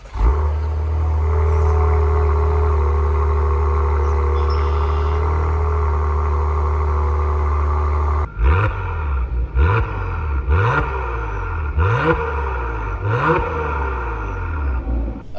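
A 2024 Acura TLX Type S drives along, first as a loud, steady low engine and road rumble, then as repeated rising revs as it accelerates through gears, heard from inside the cabin.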